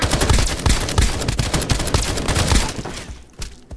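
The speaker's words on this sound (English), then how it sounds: "That's the shotgun that he's shooting." Shotgun gunfire in the video game Escape From Duckov comes as a dense, rapid barrage of loud overlapping blasts that fades near the end, with no talking.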